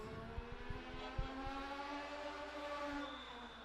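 A race car laps Madera Speedway during qualifying, its engine a steady, tonal drone as it accelerates out of turn four, heard from a distance with no voices over it.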